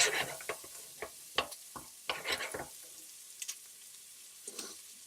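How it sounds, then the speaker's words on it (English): Onions fry in a pan with a soft background sizzle, broken by a series of close scraping, clattering stirs that come in irregular bursts, then grow quieter and sparser. "And just add in your onions. Give that a stir."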